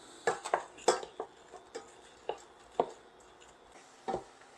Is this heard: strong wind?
no